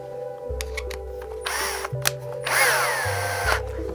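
A power drill whirs in short bursts, driving a screw into a countersunk wooden strip of a Peruvian cajón in a craft workshop, close and fairly loud with brief pauses between runs.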